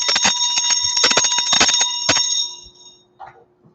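Bell rung rapidly over and over, a bright metallic ringing with clattering strikes for a couple of seconds before it fades out, loud and close with nothing else over it.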